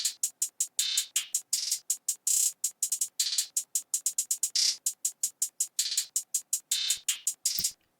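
A Southside-style trap hi-hat pattern programmed in FL Studio, with loud, crisp hits in fast bouncing rolls and stutters that repeat steadily throughout and stand alone with no other sound.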